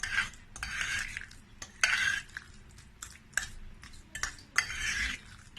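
A creamy homemade salad dressing without mayonnaise is mixed by hand, with a spoon or whisk scraping and tapping against the bowl in irregular bursts. The sound is soft and close, with no voices.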